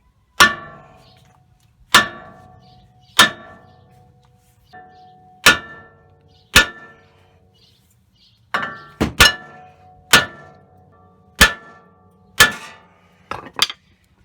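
Hammer blows strike a Toyota Tundra 4x4 front brake rotor to knock it loose, a series of about a dozen loud, sharp metallic whacks spaced roughly one to two seconds apart, each ringing briefly, with no talk.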